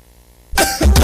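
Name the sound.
cough in a cough medicine commercial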